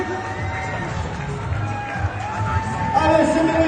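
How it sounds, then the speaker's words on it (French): Spectators at a handball match cheering as a dance troupe passes, a steady crowd noise that swells toward the end, with an announcer speaking over the PA. "Alors, faites du bruit à leur passage."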